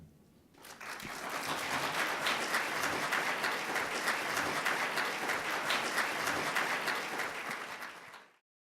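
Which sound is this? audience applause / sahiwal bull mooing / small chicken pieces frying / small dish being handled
audience applause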